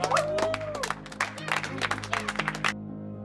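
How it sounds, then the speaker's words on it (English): A church audience claps to welcome Pastor Rudy at an evening service, a burst of scattered hand claps over a low steady drone, fading out after under three seconds. "Give a clap."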